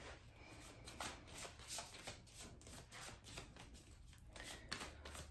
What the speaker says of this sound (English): Let's start shuffling these cards